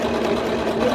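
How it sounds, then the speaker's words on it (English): A sewing machine runs steadily at close range with a continuous mechanical whir and no pauses, during a Christmas tree skirt sewing project. "trying to figure out my sewing machine that I've never used"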